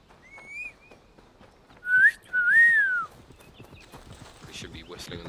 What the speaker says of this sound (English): We should be whistling on the microphone.